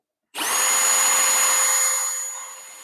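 Cordless power drill spinning up during garden pot work, a loud steady whine that starts abruptly and holds close to the listener before easing slightly toward the end, with no talking.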